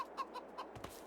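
Chickens in a Farming Simulator 22 farm cluck softly, a few short, faint clucks in quick succession over a low hum.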